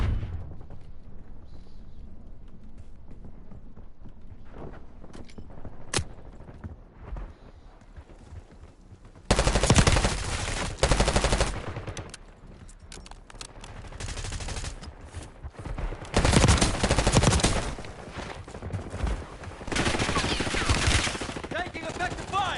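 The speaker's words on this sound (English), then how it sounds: "Taking effective fire!" Battle royale gunfire in Black Ops 6, heavy bursts of automatic shots breaking out midway and returning in loud volleys over game background noise.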